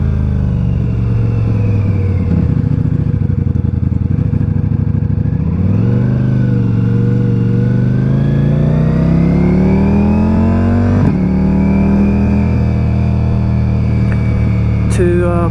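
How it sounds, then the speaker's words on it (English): A 2023 Ducati Diavel V4 motorcycle with an Akrapovic exhaust rumbles steadily, then rises through revving acceleration with climbing engine pitch, drops and pulls again, loud and close throughout with no talking. "that akrapipe system on this bike is, oh, you can hear it, it's just so nice"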